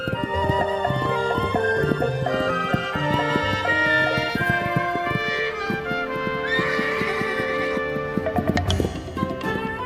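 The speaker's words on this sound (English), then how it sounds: "Stallions spar and court young mares in a drama as old as the hills." Wild mustang stallions and mares neighing loudly and repeatedly in open country, shrill whinnies layered over the dull clip-clop of hooves close by, with no talk.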